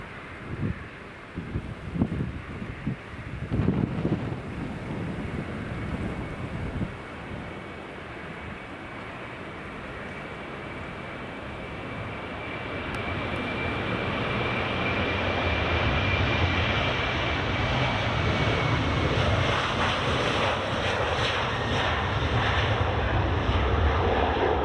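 A Ryanair airliner departing Edinburgh Airport for Porto, its jet engines building from a distant rumble into a loud, sustained roar that swells and holds, with some wind buffeting the microphone early on.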